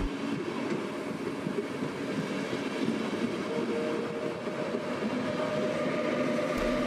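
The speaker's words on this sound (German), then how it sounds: "4 bis 5 Doppelstockwagen und einer Lok der Baureihe 1116 bzw. in Deutschland auch als Baureihe 182 und Taurus bekannt" Vienna S-Bahn double-deck train hauled by a class 1116 Taurus locomotive, a steady rumbling roll of rail cars passing at close range with constant low droning and light rattling throughout.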